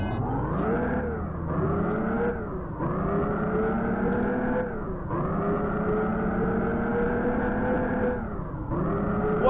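A car launches in a drag race in the video game REVHEAD, its engine revving hard and climbing through a series of quick gear shifts, steady and close, with no voices.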